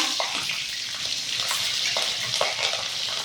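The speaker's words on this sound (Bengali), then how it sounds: "তেল গরম হয়ে গেছে বন্ধুরা, ফোড়নে দিয়ে দিব গোটা জিরে, তেজপাতা, কাঁচা লঙ্কা" Whole cumin, bay leaf and green chilli sizzle loudly in hot oil, a close, continuous hiss with small crackles and soft stirring taps throughout, and no talking.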